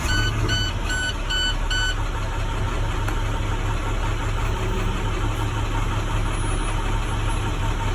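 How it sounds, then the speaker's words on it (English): A truck engine runs at a steady low idle up close, with a rapid series of high electronic beeps near the start, during an air brake test. "Just start the engine."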